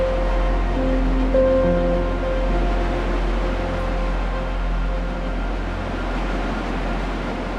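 Ocean surf along the Eystrahorn coast in Iceland rolls as a continuous, fairly loud roar of waves, with a faint steady hum underneath and no voices.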